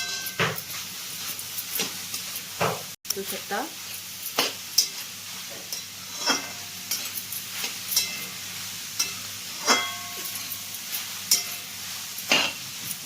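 Grated carrot sautés in ghee for gajar halwa, a soft continuous sizzle broken every second or two by louder scrapes and clinks of a spatula stirring the pan.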